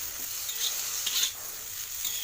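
Okra frying in a little oil, an even bright close sizzle with a couple of brief louder hissing swells, no talk.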